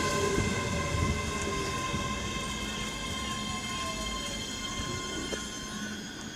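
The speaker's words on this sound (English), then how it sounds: "now departing on platform 1 of Falkirk High is the 1644 scotrail service." A ScotRail train pulls away from Falkirk High station, with a steady rumbling rail noise and tonal motor whine holding at a moderate, fairly close level throughout.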